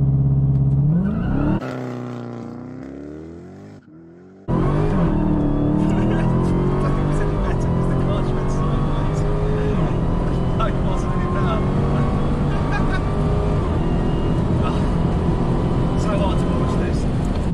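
A Dodge Demon muscle car's powerful engine revs up and down, then roars hard as it launches and accelerates, loud and close, with a voice speaking briefly.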